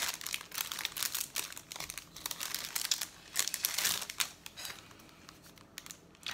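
Plastic packaging around a set of small Mickey and Minnie cards crinkles and crackles steadily as it is opened, close and fairly loud, with sharper bursts of rustling throughout and no talking.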